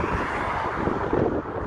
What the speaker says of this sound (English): Sorry for all the wind. It's probably messing up the sound.